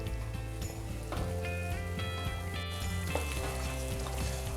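Sugar syrup for jangiri bubbling and simmering steadily in a pan, a continuous soft frothy sizzle with no talking.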